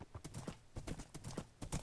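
Horse hooves clip-clop steadily in modded Minecraft, where the horses come from a Lord of the Rings mod; the hoofbeats are quick and even, fairly close, with a faint murmur underneath.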